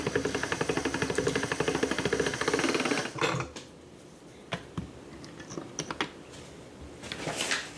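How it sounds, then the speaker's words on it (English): Pasta dough feeds through a pasta roller set at level 7, giving a rapid mechanical clicking and rumbling for about three seconds, then scattered soft taps and handling sounds, close and with no talking. "put it in our roller at 7 and do one pass at that level"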